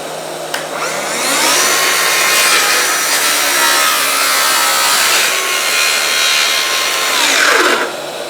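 A Festool HKC55 circular saw on a guide rail cuts through MDF with an extractor running, giving a loud, steady whine that holds for several seconds before spinning down, with no talking.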